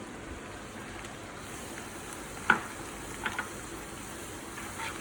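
Sage leaves sizzle in browning butter in a pan, a soft, steady frying hiss with a few small pops and clinks, close but fairly quiet.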